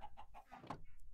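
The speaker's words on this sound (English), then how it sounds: "I've got chickens." Chickens in the video game Minecraft give a quick run of short, faint clucks, about five or six in a row, with no voice over them.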